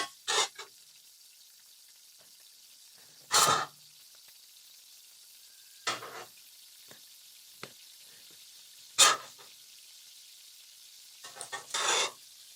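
Escovitch fish fry in a skillet packed almost to the brim and are turned with tongs, giving short bursts of sizzle and scraping over a quiet steady fry.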